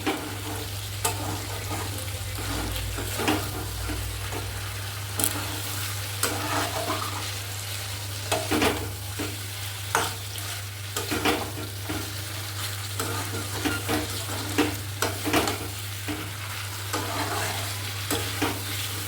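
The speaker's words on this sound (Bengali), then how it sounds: "আমার কিন্তু কষানোটা অনেকটাই হয়ে গেছে আর তেলও বেশ ছেড়ে এসেছে" Chicken masala being stirred and fried in released oil in a pan, a continuous sizzle with repeated scraping strokes of the spoon, close and steady, no talk.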